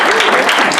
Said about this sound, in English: I think a big round of applause for Nicole Rabideau.